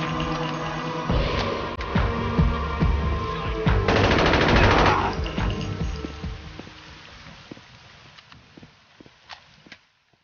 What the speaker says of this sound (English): First floor! Open fire!